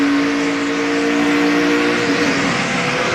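NASCAR race cars roar loudly at Dover during a crash, with a steady droning engine note and no audible impact in this stretch.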